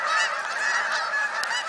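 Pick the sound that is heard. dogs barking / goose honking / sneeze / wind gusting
goose honking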